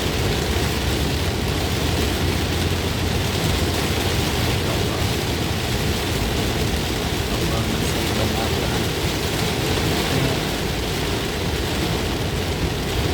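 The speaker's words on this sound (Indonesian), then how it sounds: "Alhamdulillah turun hujan, semoga membawa keberkahan untuk kita semuanya" Heavy rain pouring down on a toll road toward Cileunyi, heard from inside a moving vehicle, a dense and steady broadband hiss with road rumble underneath.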